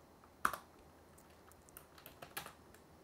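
Code typed on a computer keyboard, a quiet run of light, irregular key clicks up close, with one slightly louder tap near the start and no voice.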